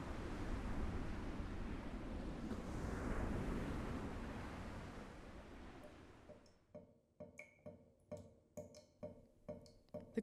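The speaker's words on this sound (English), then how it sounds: "Waves crashing wild against the shore." Ocean waves crash against the shore in a loud, steady roar for about six seconds, then fall away and give way to sharp, evenly spaced dripping sounds.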